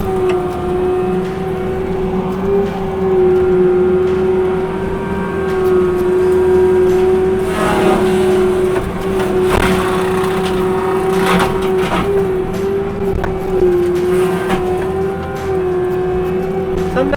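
A disc mulcher clears stumps as its operator drives the nose down into them: a loud, steady engine drone with a strong sustained whine, and rougher grinding bursts rising now and then over it.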